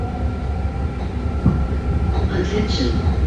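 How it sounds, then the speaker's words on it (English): A blue line BART train bound for Dublin/Pleasanton passes alongside, heard from inside another BART car as a loud steady rumble and rail roar with a few sharp clacks and squeals. "That's a blue line, Dublin Pleasanton bound BART train passing us."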